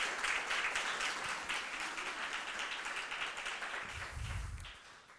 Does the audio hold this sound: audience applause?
yes